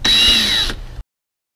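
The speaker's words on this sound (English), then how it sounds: "I'm going to go ahead and pre-drill the hole for the copper pipe." A power drill pre-drills a hole for copper pipe, giving one loud, close burst of whirring that runs under a second and then cuts off abruptly, with no talking.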